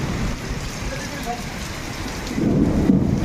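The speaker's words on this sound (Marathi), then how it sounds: "जोराचा पाऊस आलाय बघा विजांच्या कडकडाट" Heavy unseasonal rain pours steadily in strong wind in the Konkan, while a deep rumble of thunder swells near the end, loud and close.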